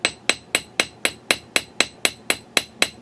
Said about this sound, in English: I'm going to do a little ball peen end of it and pattern this up.